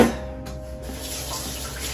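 A kitchen tap runs water for cooking a spaghetti squash bolognese, a steady close splashing stream into the sink that starts loud and continues evenly, with no talking.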